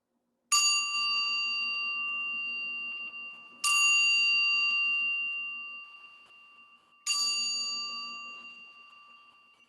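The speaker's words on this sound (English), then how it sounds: "we end with listening to the sound of our bell" A mindfulness bell is struck three times at slow, even intervals, each bright metallic ring sustaining and fading gradually in a quiet room.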